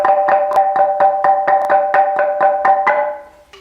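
Bamboo angklung tubes shaken together sound a sol, si, re chord as a rapid, even rattling tremolo of close, bright clattering pulses lasting about three seconds before fading out.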